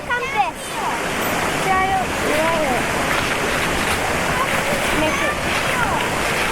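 Stream water flows into a container held upstream on a trail near a waterfall, a close, steady rushing and gurgling that continues throughout at a strong, even level.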